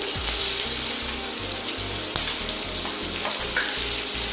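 Green chillies and chopped onion sizzle steadily in hot oil in a pan, with bursts of crackling and a few clinks of stirring close by.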